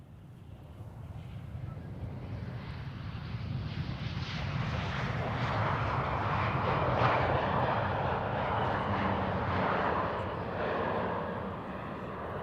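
An Embraer jet at Amsterdam Schiphol passes at a distance, its broad engine roar swelling gradually to a peak midway and then holding steady with light wind noise, no voices.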